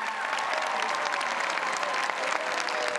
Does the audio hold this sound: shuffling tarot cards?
no